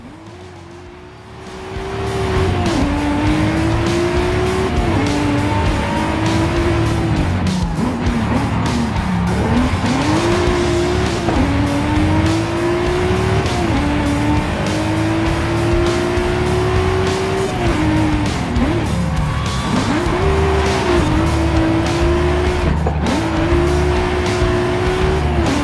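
A car drifts around a turn in the racing game Forza Horizon 5, with a loud, sustained engine roar and continuous tire squeal whose pitch wavers as the slide is held, alone without talk.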